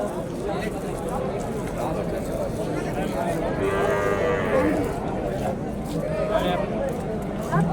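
Cattle moo repeatedly at a busy outdoor cattle market in Vaniyambadi, with several drawn-out calls rising over constant crowd chatter and people talking nearby.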